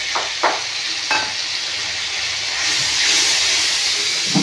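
Ground cumin, turmeric and chili powder frying with pumpkin in a pan, a steady close sizzle and hiss with a few sharp spoon-scrape stirring knocks, the frying swelling louder near the end.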